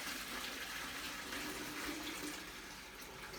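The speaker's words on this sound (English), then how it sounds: "And when you fill it, you can fill it all the way to the very top." Water pouring steadily into a Berkey Light 2.75-gallon gravity water purifier, a continuous close splashing hiss with no talking.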